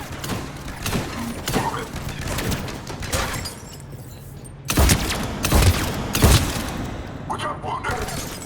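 Sustained gunfire in the sci-fi shooter Mass Effect 3, rapid bursts of shots and heavy thuds layered over a dense battle din, with a couple of loud booming hits midway.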